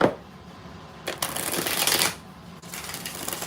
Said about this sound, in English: 5 shuffles for Rudy Blue.